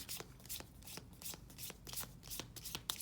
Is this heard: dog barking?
no